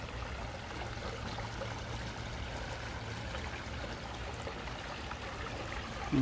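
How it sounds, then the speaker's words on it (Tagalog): A gentle stream babbles and trickles in a steady, soft flow outdoors among trees, heard close and unbroken with no voices until a brief bump at the very end. "Yung konti rin namang lagaslas."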